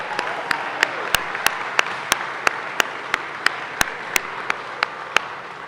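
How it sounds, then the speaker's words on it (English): An audience at a fire station ribbon cutting keeps up a moderate round of applause, with a few sharp individual claps standing out at a regular rhythm above the crowd. "Let's give them one more round of applause."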